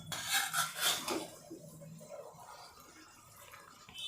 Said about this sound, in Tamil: லைட்டாக அரிசி எதுவும் உடையாமல் கிளறி விடுங்க.